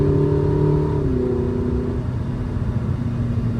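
A Ferrari 849 Testarossa engine on throttle at Sonoma Raceway, holding a steady loud drone whose tone shifts downward between gears, close and continuous throughout.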